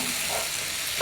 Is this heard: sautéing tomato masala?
yes